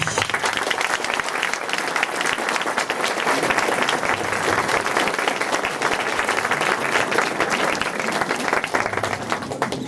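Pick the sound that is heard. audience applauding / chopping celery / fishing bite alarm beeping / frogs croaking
audience applauding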